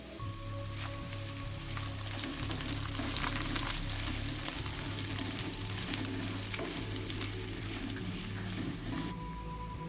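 Cauliflower manchurian masala sizzles and fries steadily in a pan with cumin powder and crushed red chili, a continuous close crackle with stirring scrapes throughout.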